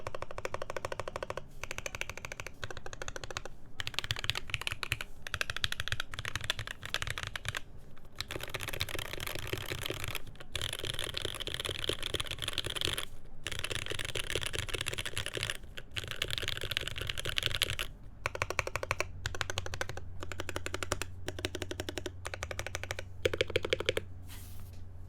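Rapid, continuous typing on a Switchmod Slipline mechanical keyboard with a hollow-sounding case: dense, close clacking keystrokes and occasional heavier enter presses over about 25 seconds, with no talk.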